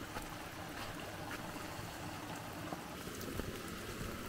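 Rainwater from a creek rushes past a leaking earthen dam wall after the first rain, a continuous broadband wash of flowing water with small splashes and gurgles, steady and fairly close.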